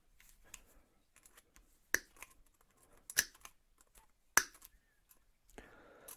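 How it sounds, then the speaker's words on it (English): Wire cutters snip through the outer wire of an 8x8 wire mesh piece for a homemade rat or mink cage trap, three sharp, faint clicks spaced about a second apart in a quiet room. "We will cut off the very outside wire all the way around."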